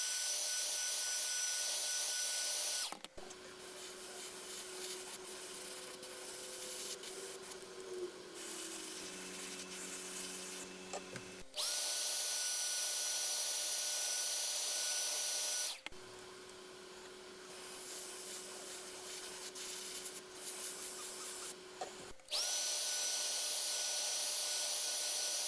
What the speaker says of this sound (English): hit it with the hairdryer and do it again